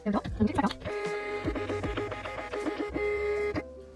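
A compact MunByn 130B thermal label printer feeds a label through, giving a series of short clicks and whirring motor bursts with faint electronic beeps.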